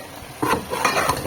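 Potatoes and spinach are stirred and fried in a pan in a home kitchen. A spoon scrapes the pan in several close, loud strokes over a steady sizzle, with no talking.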